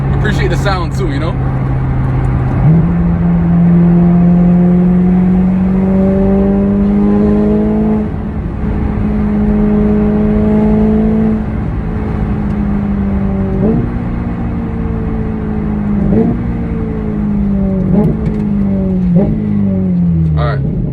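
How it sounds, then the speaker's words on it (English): Car driving over a bumpy road with a loud, steady engine drone whose pitch rises and shifts through gear changes, close and continuous, with rumbling road noise throughout. "This road is a little bumpy right now"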